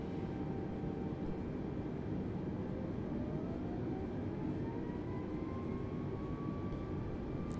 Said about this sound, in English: let's go ahead and take off this aircraft